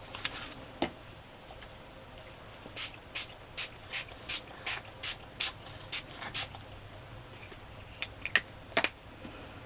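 An ink spray bottle fires a series of short, evenly spaced hissing bursts onto paper craft tags, roughly one per half second, then a few scattered quicker sprays near the end, close and clear with no talking.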